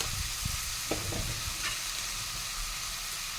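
Curry with turmeric and chilli powder stirred while it fries in a pan, a steady sizzle with a few scraping strokes of a spoon, no voices.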